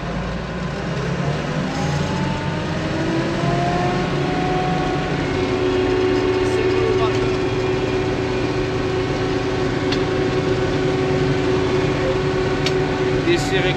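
A combine harvester engine revs up while harvesting faba beans, its steady mechanical drone climbing in pitch and then holding a loud, even whine close by.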